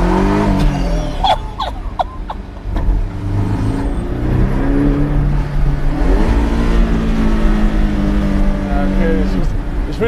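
Porsche engine accelerating while driving, a loud steady drone with rising and falling revs throughout, under a voice speaking over it.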